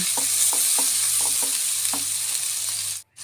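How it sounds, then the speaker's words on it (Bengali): Mixed spices frying in oil in a pan while being stirred for a fig curry, a constant sizzle with rhythmic spoon scrapes repeating about twice a second, cutting off abruptly at the end. "আমি সব প্রকার মশলা আমি তেলে দিয়ে ভালো করে কষিয়ে নিচ্ছি"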